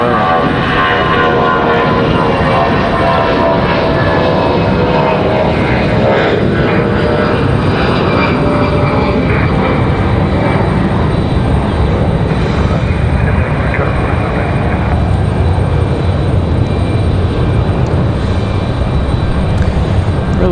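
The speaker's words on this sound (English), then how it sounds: "That one's Delta 1275 headed to Tampa, Florida. And it is an A319." A Delta Airbus A319 jet departs from Raleigh-Durham International Airport, its engines roaring loud and steady throughout with a broad rumbling wash that slowly shifts in tone as it climbs away.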